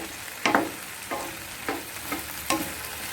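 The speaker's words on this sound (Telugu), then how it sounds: "చూడండి ఇలా ఫ్రై అవుతుంది, మగ్గుతున్నాయి." Okra and spring onions frying together in a pan give a soft steady sizzle, with four or five sharper scrapes and stirs of a spatula spaced about half a second apart, close by and with no voices.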